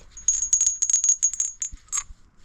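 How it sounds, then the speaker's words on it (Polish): A small, high tinkling angel bell ornament jingles in a quick flurry of light rings, close by and fairly bright, with no voices. "Aniołek dzwoneczek."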